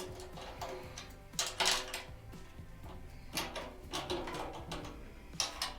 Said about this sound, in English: I'm actually gonna take almost all the tension off to where the lugs are just finger tight.